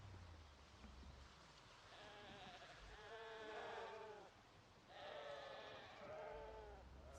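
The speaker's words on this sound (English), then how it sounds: "A lot of sheep." Sheep in the video game Project Zomboid bleat in two distinct wavering calls a few seconds apart, faint and somewhat distant over a low background hum.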